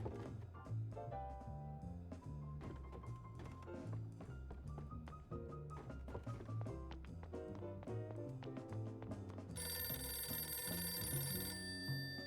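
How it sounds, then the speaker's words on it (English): An office telephone rings in the video game Deliver At All Costs, repeating bell trills in a steady pattern over background game music, with a brighter tone near the end and no talking. "I should try calling him from the office phone."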